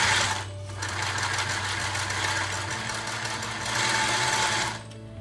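A sewing machine runs steadily through fabric with a rapid, buzzing mechanical hum that stays close and continuous for several seconds, eases slightly near the end, and has no talk over it.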